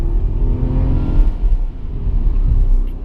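A Dacia Sandero Stepway's 0.9 TCe engine with EASY-R gearbox pulls under acceleration during a test drive, a steady low cabin rumble and drone that rises slightly, heard from inside without talk.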